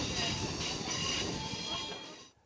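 A moving train rolls along rails with a steady rumble, a faint wheel squeal and a clatter before the noise cuts off abruptly near the end, heard under a narrating voice.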